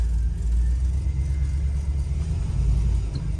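A 1973 Chevrolet Nova four-door, parked for 32 years and low on transmission fluid, rolls under its own power with a deep, steady engine rumble close by that holds level throughout.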